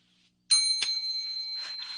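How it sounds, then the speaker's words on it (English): A handheld bell rung on a podcast gives one bright, ringing strike that hangs in a sustained tone, followed by a couple of lighter taps, heard alone in a quiet room. "So I'll be using the bell"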